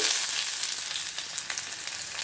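Onion pieces frying in a couple of ladles of oil with mustard seeds, a soft continuous sizzle with light crackling pops, close and alone.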